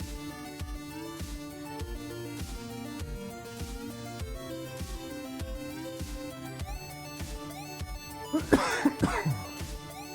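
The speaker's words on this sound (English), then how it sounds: "Cough, cough, hack." A person coughs in a brief cluster of hacking bursts near the end, heard over steady, looping video-game background music.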